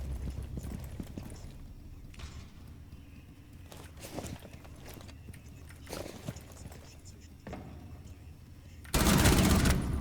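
Gunfire in a tactical shooter game round, a few scattered sharp shots and bursts over background game noise and talk, ending with a loud, dense burst of fire.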